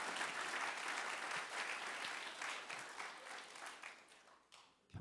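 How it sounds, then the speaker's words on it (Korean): A church congregation claps together in sustained applause, dense and steady before tapering off near the end, with no talk over it. "박수 한번 쳐주세요."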